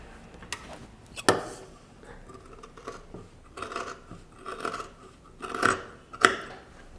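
Scissors snip through kurta fabric at the shoulder during stitching, a few sharp close cuts and rustling cloth spaced irregularly, quiet between strokes.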